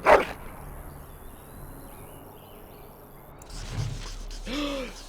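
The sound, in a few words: dog barking, from the video game Dragon Age: Origins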